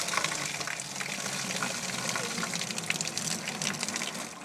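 Water draining from an outdoor wood boiler as it is started for the season, a steady rushing, gushing flow with the treated water coming out, continuous and fairly close throughout.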